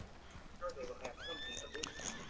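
Horse in the video game Red Dead Redemption 2, faint neighing and whinny calls with some hoof clip-clop, low in level with voices talking over it.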